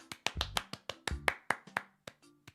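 Sharp hand claps ring out in a quick, slightly uneven series of about a dozen close, crisp strikes, alone and without talk.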